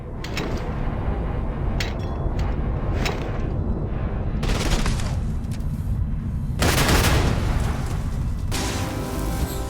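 Bursts of gunfire and booms from Starfield during slowed time, a loud continuous barrage with heavier impacts and explosive swells, without talk.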